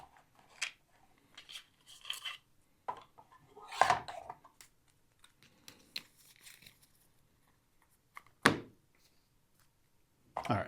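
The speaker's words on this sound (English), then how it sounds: "Just trying to rush too many cards through the shuffle at any given time" Paper playing cards shuffled by hand, dry riffling bursts and flicks at irregular intervals with quiet gaps between, fairly close and soft.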